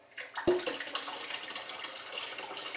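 Liquid poured steadily into a pot of curdling goat milk during home cheese making, a continuous splashing trickle starting with a sharp impact and running on without talk.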